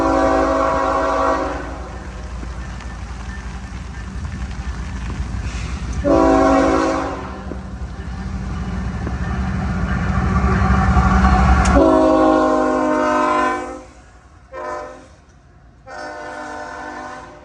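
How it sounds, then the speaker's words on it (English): An intermodal freight train rolls past at restricted speed in heavy rain, with a steady loud roar of wheels and wagons and several blasts of the horn, the last ones short and separated by gaps. "this intermodal is operating at restricted speeds due to the poor visibility caused by the rain"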